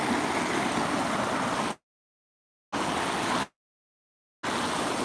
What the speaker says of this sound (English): Look. Waterfall.